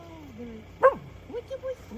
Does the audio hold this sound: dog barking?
yes